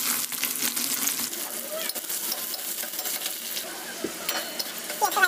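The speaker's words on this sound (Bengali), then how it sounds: "ফোড়নে দিয়ে দেবো জিরে আর কুচি করে রাখা পেঁয়াজ।" Chopped onions and cumin seeds hitting hot oil, a dense continuous close sizzle with light stirring clinks and scrapes throughout.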